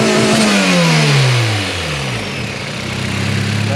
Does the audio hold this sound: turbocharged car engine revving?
yes